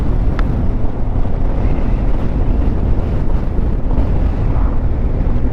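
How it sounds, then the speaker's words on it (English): Strong wind roars and buffets the microphone in a constant, loud rumble, with no voices and no gaps. "It was already windy before, but it's really windy down this particular channel."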